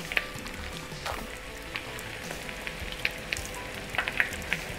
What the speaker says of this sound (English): it legit sounds like bacon in a frying pan